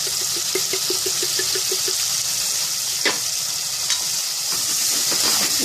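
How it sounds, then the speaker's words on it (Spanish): Rice and beans sizzling and frying in a pot as sauce goes in, with a steady hiss, a run of quick soft taps early on and occasional scraping stirs. "Ahora vamos a ponerle lo que es la salsa"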